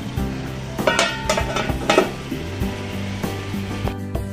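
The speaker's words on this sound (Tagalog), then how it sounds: "Style beef stick na isda, salmon yan mga kaibigan, yung ating niluluto." Salmon fish steak sizzling in a frying pan, a steady fry with a few scraping stirs and soft clinks of a utensil against the pan, close and fairly loud.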